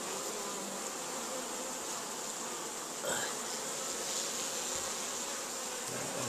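Tasmanian honey bees buzz steadily at a hive entrance, a dense, close, continuous hum with the drone of many insects throughout.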